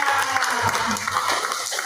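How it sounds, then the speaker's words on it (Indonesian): Audience applause at an Oli Life stockist gathering in Tebet, Jakarta: a dense, continuous wash of many hands clapping at steady loudness for the full two seconds. "Tepuk tangan untuk kita semua."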